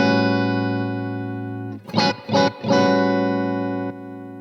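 Sustained clean electric guitar chord ringing with reverb, interrupted briefly by a few quick strummed bursts before the sustained tone returns and fades.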